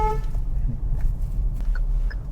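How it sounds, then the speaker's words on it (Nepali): A Hyundai Aura compact sedan sounds its horn in one short, loud, tonal honk right at the start, followed by quieter ambient background noise. "यसको हर्न पनि मलाई बबाले लागेन हर्न चाहिँ यसको लाउड छ है सुन्नु है त"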